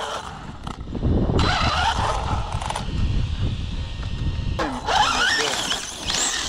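An Arrma RC car with a failing center differential runs outdoors, its motor whining and drivetrain grinding and rattling in uneven bursts, with rising whirring pitches near the end.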